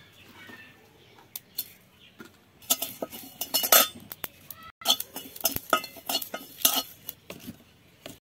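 Bay leaves and cumin seeds dry-roasted in an empty wok, heard as scattered clinks and scrapes of a metal spoon stirring against the pan, close and intermittent with brief quiet gaps.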